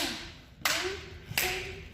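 Two sharp, loud hand claps about three quarters of a second apart ring out against a faint steady tone during a Zumba class.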